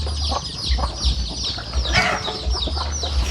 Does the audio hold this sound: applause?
no